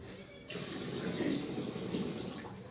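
Water pours steadily from a magic water pot exhibit at the National Science Centre in Delhi. A loud, continuous splashing gush starts about half a second in and keeps going without a break.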